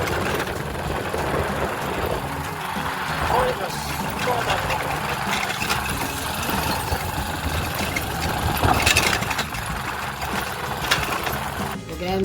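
A motorcycle rides along a village road with a steady, moderately loud engine drone and rumble throughout, with no voices on top.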